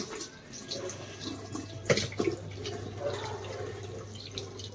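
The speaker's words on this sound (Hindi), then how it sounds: "चलो पानी भर के देखती हूँ" Water runs steadily into a washing machine tub during cleaning, a continuous splashing flow with a few brief louder clunks partway through, close and fairly loud with no talking.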